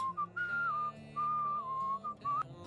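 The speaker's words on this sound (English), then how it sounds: "My character's whistling is very in contrast to the tone of the actual like song being" A player character whistles a meandering tune in the video game Where the Water Tastes Like Wine, clear and continuous over a soft low musical backing, with no talk.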